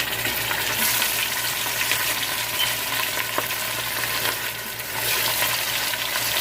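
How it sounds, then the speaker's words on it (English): Meatballs of ground beef frying in hot oil, a steady, dense sizzle and crackle that runs throughout without any talking. "I'm gonna take the meatball and put it in the oil."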